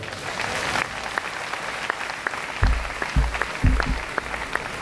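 Church congregation at a Sunday synod service applauding together, a dense, steady clapping with a few louder low thumps near the end.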